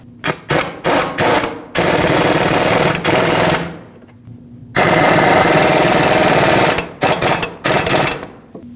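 Caliper bracket bolts on a 2006-2015 Lexus IS250 front brake are tightened by a power tool in loud, rapid rattling bursts: several short ones, then two longer runs, then short bursts again.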